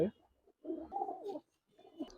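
Pigeons of the Palla line coo in two soft, low rolling bursts, fairly close, with a brief sharp noise at the start and a little faint talk around them.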